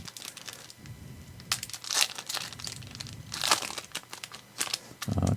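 Foil wrapper of a Disney Lorcana Reign of Jafar booster pack crinkles and rips open up close, a string of crisp crackles and tearing bursts over several seconds with no voice.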